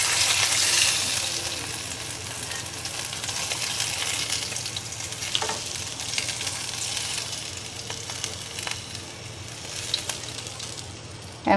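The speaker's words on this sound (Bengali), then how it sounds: "এখন আমি এক পিঠ মাছ ভাজা হয়ে গেছে, আর এক পিঠ উল্টে দেব।" Katla fish fries in mustard oil in a pan, giving a loud, continuous crackling sizzle for the whole stretch, with a few soft utensil taps near the end and no voices.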